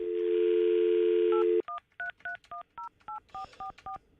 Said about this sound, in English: I'm going to call Fester quickly here.